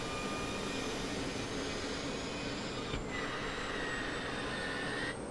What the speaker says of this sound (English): Jet fuel starter to start 2.